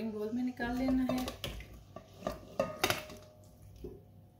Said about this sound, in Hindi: इसको अपने सर्विंग बोल में निकाल लेना है।